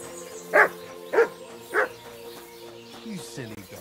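A dog in the video game Kingdom Come: Deliverance II, played on PS5, barks three times at even intervals, close and fairly loud, before a voice speaks.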